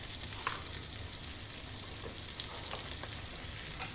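Chili and garlic sizzle steadily in a hot pan, a dense continuous frying hiss with small crackles and pops, close and fairly loud throughout.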